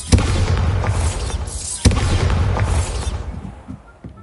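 Confringo and Bombarda explosion spells cast in Hogwarts Legacy, two loud, sharp blasts about two seconds apart, each trailing into dense crackling rumble that fades out.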